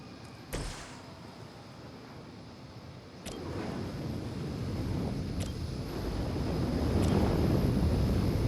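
A Hydra helicopter flees in the game Marvel's Midnight Suns, a steady rotor and engine roar rising gradually in loudness, with a few sharp knocks over the continuous droning wash.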